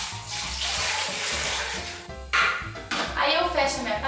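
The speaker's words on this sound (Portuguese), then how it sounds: "vou utilizar uma panela de pressão e vou colocar a água até cobrir" Water pours steadily into a pressure cooker over a can of condensed milk in a home kitchen, a continuous splashing rush with a few shifts in flow, close and fairly loud.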